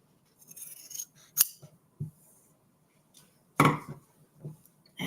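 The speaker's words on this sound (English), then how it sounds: "We'll trim off this excess up here at the top" Scissors trim excess fabric from a quilted Christmas tree table runner: a few faint, crisp snips spaced irregularly in a quiet room.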